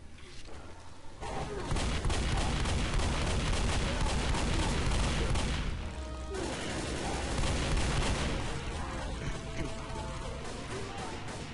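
Chaotic gunfire in the Left 4 Dead zombie shooter, a dense barrage of shots and crashes filling most of the stretch with a brief lull in the middle, loud and busy throughout.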